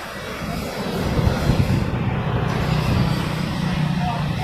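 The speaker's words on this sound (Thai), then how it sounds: "แล้วเราจะมาลอง จับเวลาดูครับ ว่ามันจะปั๊มถึงนาทีไหมสำหรับล้อมอเตอร์ไซค์นะครับผม" A Makita MP100DZ cordless air pump inflating a motorcycle tire, a continuous loud close mechanical drone that holds steady throughout.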